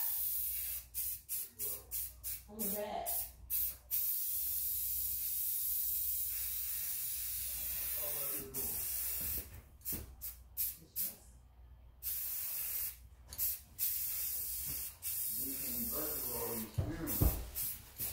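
A spray paint can hisses onto a dresser in many short bursts and a few longer passes, close and fairly soft, over a steady low background hum.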